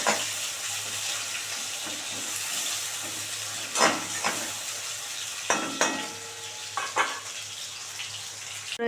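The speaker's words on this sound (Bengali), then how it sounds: "2খানা পেঁয়াজ কেটে নিয়েছি, এটা বেরেস্তা করে নেবো। এই যে ভালো করে ভেজে তুলে নেব।" Two sliced onions fry in oil for birista, a steady bubbling sizzle close by, broken by several louder clatters and scrapes of stirring.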